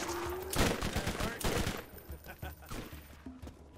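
SMG gunfire in Borderlands 1 while skags swarm: dense bursts of rapid shots rattle close and loud, with a heavy flurry early on, then thin into scattered pops and impacts under a faint game soundscape.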